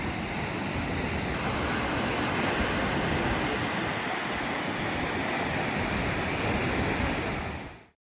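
Dettifoss waterfall in Iceland roars as a broad, steady wash of rushing water, loud and unbroken with wind buffeting the microphone, fading out abruptly at the end.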